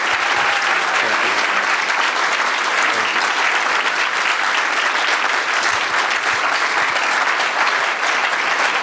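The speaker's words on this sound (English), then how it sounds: "I think we owe them at least one more round of applause and appreciation" Sustained audience applause fills a presentation event for a natatorium at Ty Warner Park, dense and steady throughout with no break.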